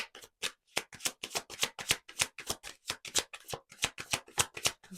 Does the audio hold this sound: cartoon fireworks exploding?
no